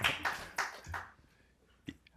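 A lone audience member at a lecture claps four quick times, then pauses before one last faint clap. The sound is quiet and nearby.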